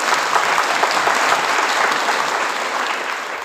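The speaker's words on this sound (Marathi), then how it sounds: "आपण एकदा जोरदार टाळ्या वाजवायच्या." An audience at a religious discourse gatherings claps loudly and steadily, a dense wash of hand claps filling the space and tapering slightly toward the end, with no voices over it.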